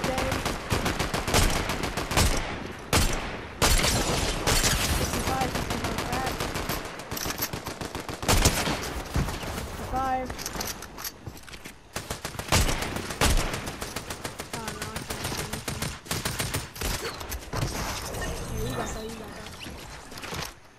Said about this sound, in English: they're shooting just everywhere right now